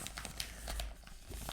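Christmas wrapping paper crinkles and rustles up close in quick irregular bursts, crisp and busy for a short moment with no talk.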